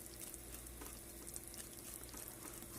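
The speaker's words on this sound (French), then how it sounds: "on continue le mélange" Baobab fruit (teedo) juice mixed with water being stirred to smooth out lumps, a soft, continuous wet swishing with faint liquid churning, quiet and steady throughout.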